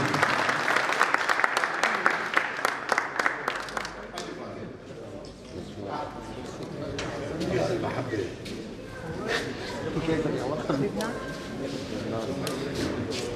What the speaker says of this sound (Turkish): Tebrik ediyoruz, alkışlıyoruz kendisini.